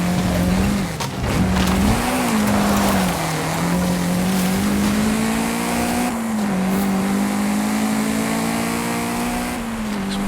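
An Ariel Nomad's engine drones steadily in a racing video game, its pitch rising and dipping as it accelerates and shifts, loud and continuous throughout.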